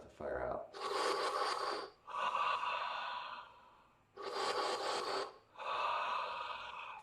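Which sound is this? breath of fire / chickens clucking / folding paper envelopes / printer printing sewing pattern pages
breath of fire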